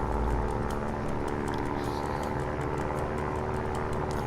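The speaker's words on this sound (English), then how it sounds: "So you just throttle the engine and it should, you know, take off at any moment now." A small propeller plane's engine throttles up in the survival video game Stranded Deep, giving a steady, loud, droning roar that holds throughout with no talk.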